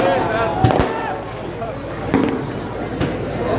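Firecrackers burst outside in a few scattered, sharp cracks against a busy, noisy background with voices around.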